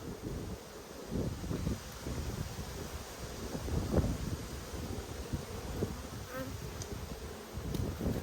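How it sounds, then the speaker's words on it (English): Honey bees buzz around an open hive during an inspection, a soft continuous hum at close range with light wind and rustling. "Good bees."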